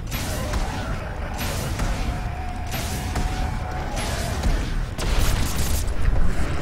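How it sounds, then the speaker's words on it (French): A slowed-down explosion in the sci-fi horror video game Dead Space 3 rolls out as deep, drawn-out booms and whooshing bursts, loud and sustained, swelling toward the end with no talk. "Oh, l'explosion ralentie, c'est très joli."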